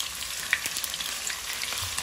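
Eel pieces fry in hot oil with scallion and ginger, giving a dense, continuous crackling sizzle close up with small pops throughout and no voices.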